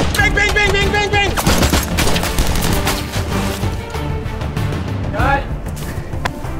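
A voice imitates rapid gunfire for a toy-gun action scene, a loud burst of repeated bang sounds delivered in quick succession, close up, with no other talk.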